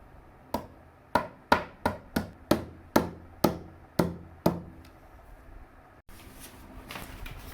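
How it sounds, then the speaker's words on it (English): About ten sharp, hollow knocks from a plastic mallet strike a wooden IKEA Malm desk panel in quick, slightly uneven succession, each ringing briefly before fading, then stopping. "this is a mallet with which I have hit this inside"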